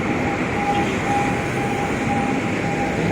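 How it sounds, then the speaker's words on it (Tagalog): A train on an elevated rail line in the city runs past nearby, a steady rolling rumble of wheels with a faint repeating whine, continuous and fairly loud with no talk. "Naluluma na rin yung ano yan, yung tren."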